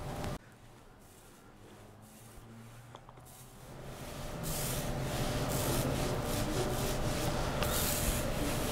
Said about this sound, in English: It's dry, and now it's time to apply my second coat.